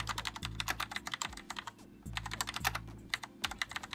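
Rapid, steady clacking of keys on a Mecha G-Unit mechanical computer keyboard, close and crisp, with short pauses between bursts of typing.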